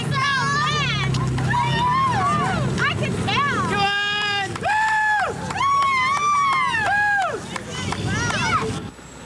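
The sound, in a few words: team members and family cheering on runners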